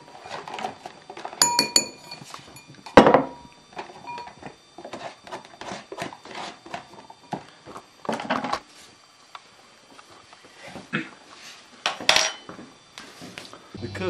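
A cook grabbing glass spice jars, with bright clinks and knocks of glass and wood scattered irregularly, some clustered in quick bursts, close and fairly loud.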